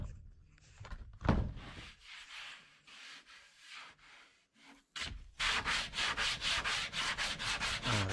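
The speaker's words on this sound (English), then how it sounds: "that's a big piece of sandpaper glued to a 1/8 piece of plywood" A wooden propeller blade's trailing edge is shaped by hand with a large sheet of sandpaper glued to thin 1/8-inch plywood, giving scattered rubbing strokes at first, then a steady run of quick, evenly spaced back-and-forth rasps, close and fairly loud.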